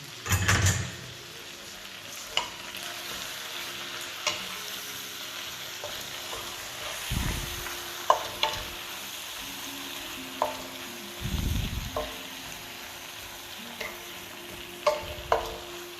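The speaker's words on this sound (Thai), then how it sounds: "ผัดผัก ใช้น้ำมันมะกอก ผัดกระเทียมแล้วก็ผัดใส่มะเขือเทศ" Vegetables stir-fried with garlic and tomato in olive oil over high heat, giving a steady close sizzle broken by scattered spatula clinks and scrapes against the pan, with a few louder stirring bursts and no talk.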